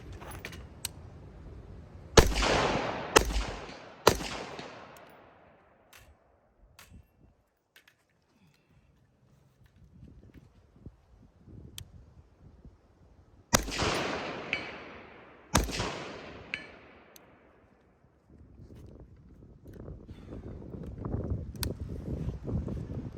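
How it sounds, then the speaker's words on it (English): Precision rifle shots ring out at targets, several loud cracks with echoing decay, fired in pairs separated by quiet pauses, with faint outdoor background and light handling noise between. "I'm going to shoot that close target with my top-mounted red dot and then go down to my magnified optic and engage the far target with that"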